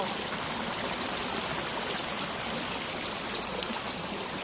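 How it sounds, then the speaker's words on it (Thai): Heavy, fast-flowing stream of muddy water near a mine, rushing loudly and steadily without a break, a broad continuous roar close by. "ตอนนี้น้ำแบบว่าไหลหลาก เยอะมากนะคะ"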